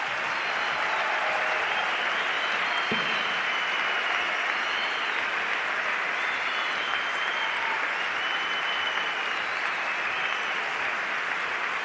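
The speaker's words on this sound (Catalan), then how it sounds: "vull demanar un fort aplaudiment i tota la solidaritat del món per tots els joves" An assembly audience of elected officials applauds in a steady, dense wash of clapping that holds evenly from start to finish with no talking over it.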